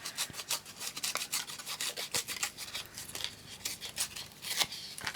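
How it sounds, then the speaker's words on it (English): Sheet of 12x12 scrapbook paper torn by hand at close range, giving a run of crisp ripping and rustling strokes with short pauses, no talking. "And then we're going to tear this side just so that it's all matching."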